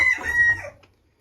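Bleu Caillouté chickens in a breeding pen give a single short, close crowing call that breaks into clucking and trails off into quiet.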